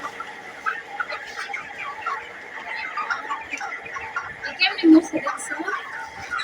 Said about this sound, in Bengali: এই দেখো কত বড় একটা মুরগি